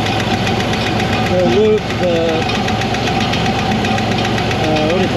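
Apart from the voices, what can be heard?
1960 Corvair engine idling slightly high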